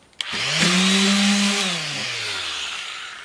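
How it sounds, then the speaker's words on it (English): A palm sander fitted with coarse 60 grit sandpaper works a wooden surface, starting with a sharp click and then a loud, steady whirring buzz that slowly winds down near the end, with no talking. "palm sander with a 60 grit, quite aggressive, but it'll get rid of the big dents in the top"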